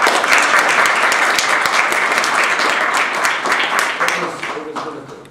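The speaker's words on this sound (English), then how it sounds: "Give a round of applause for that." An audience at an academic panel discussion during a fall symposium breaks into sustained applause that holds steady, then thins and fades near the end as talking begins.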